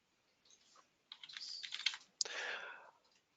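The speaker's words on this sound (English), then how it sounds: "If I type in con export" A computer keyboard used to type a command into Advanced Steel CAD software, with quick close-up clusters of light key clicks, a sharp final keystroke, and a quiet background.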